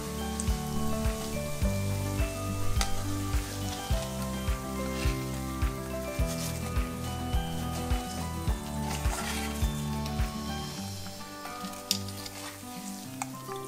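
Chicken fries in a pan with curry leaves and red chillies for a Kethel-style Trivandrum chicken fry, giving a steady close sizzle and crackle with a few stirring scrapes and no talk.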